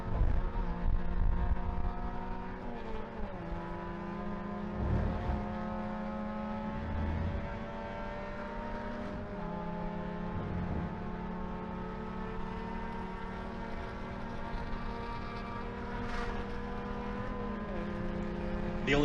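A race car with a big block Chevy engine drones steadily through the laps, its pitch rising and dipping with each gear change and corner exit, loud and continuous with other cars mixed in.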